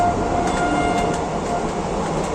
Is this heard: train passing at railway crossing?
yes